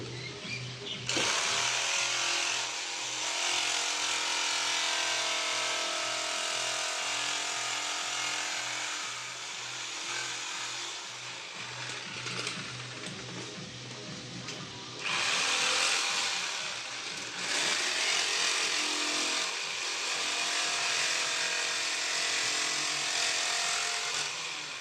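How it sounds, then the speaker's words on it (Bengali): A power tool machine cuts through a formica plug board, a loud, close, buzzing whine that dips briefly in the middle and then returns at full strength. "মেশিন দিয়ে দেখতে হচ্ছে কাটছি আমি।"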